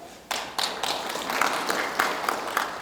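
An audience of journalists claps at a Gyeongju city New Year press conference in 2022, a steady, fairly close burst of applause lasting a few seconds.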